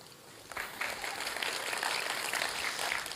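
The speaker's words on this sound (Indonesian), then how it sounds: "Kita berikan tepuk tangan sekali lagi Bapak Ibu sekalian" An audience at an Indonesian Christmas church service applauds after a sermon, a steady wash of clapping that swells after half a second and holds evenly for about three seconds, moderately loud, with no voices over it.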